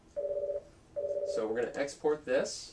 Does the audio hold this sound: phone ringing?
yes